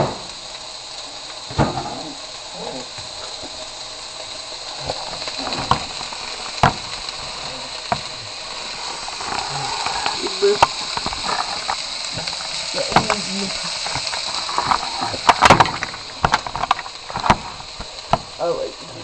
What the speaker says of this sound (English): You're going to hear that sizzle. That's what you want to hear. You put onions in the pot.